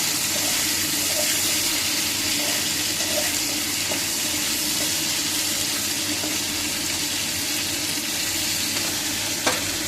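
Cauliflower florets frying in oil in a pan, a steady continuous sizzle and crackle at an even level throughout with a few faint clinks, no voices.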